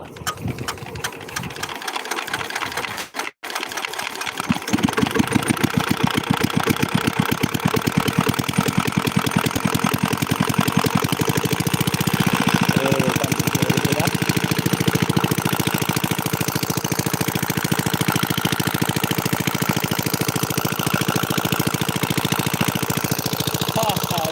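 A village irrigation pump engine cranks after a few seconds of quiet handling, then settles into a loud, fast, steady chugging that runs on unbroken.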